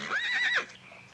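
A single short horse whinny, fairly close and clear, rising and wavering before quickly dying away.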